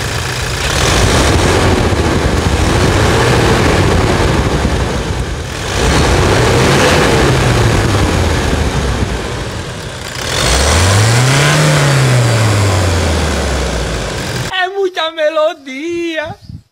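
A 2018 Toyota Hilux engine runs after a high-pressure filter change and decarbonisation, rising and falling through three loud revving sweeps over a steady idle before a voice briefly speaks.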